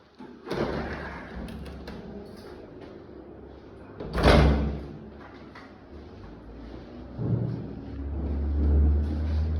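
A door in a house under renovation opens and closes with a few separate thuds and knocks, one louder bang near the middle, and a low rumble between them.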